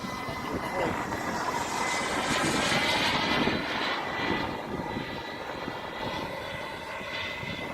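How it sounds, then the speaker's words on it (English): A Boomerang MB-339 model jet makes a gear pass, its turbine whine steady and fairly loud throughout as it sweeps past, with a faint shift in pitch and no clear speech over it. "So we'll do a gear pass, half flaps, and we will set up for the landing."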